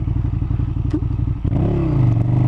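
A motorcycle engine pulses close by while riding, then a couple of thumps as it comes to a full stop in second gear and settles into a steady idle.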